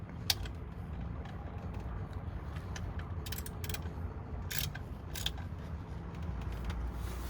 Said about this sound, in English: Let's get our socket and get the final tightening down.